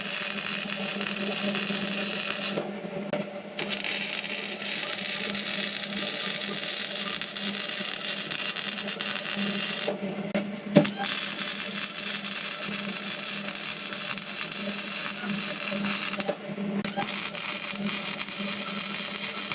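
A power tool grinds over fresh welds on the exhaust pipe of a 1981 Mazda 626, a steady harsh whir running continuously with a few brief pauses and one sharp knock near the middle.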